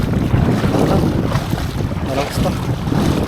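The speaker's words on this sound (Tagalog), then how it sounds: "Medyo malakas pa yung hangin." Strong wind roars steadily across the microphone at sea while fishing, a constant loud buffeting rush with no letup.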